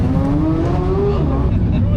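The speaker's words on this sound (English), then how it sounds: "And followed by a normal Senna," A road-going McLaren Senna passes on a track at a trackday, engine loud and near with a tone climbing then dropping as it goes by, a voice talking over it.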